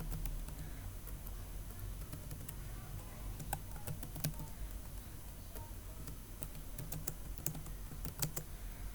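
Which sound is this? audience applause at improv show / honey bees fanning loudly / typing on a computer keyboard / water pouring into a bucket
typing on a computer keyboard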